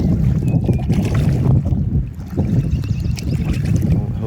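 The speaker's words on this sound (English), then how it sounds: "when you're paddling up the current, you definitely get way more momentum" A kayak paddled upstream on the Chipuxet River, with steady low water churning and paddle splashing under constant wind noise on the microphone, close and continuous.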